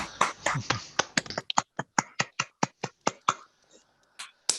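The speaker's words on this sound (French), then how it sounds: "Je crois qu'on peut applaudir." A small group claps at the end of an online presentation, with sharp, uneven claps ringing out one after another. Brief talk comes first, and the claps thin out toward the end.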